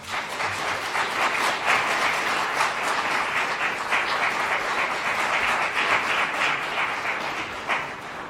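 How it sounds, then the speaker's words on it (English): A conference audience breaks into sustained, dense applause, many hands clapping steadily and fairly loud for several seconds before tapering slightly at the end. "Let us welcome them all with a round of applause."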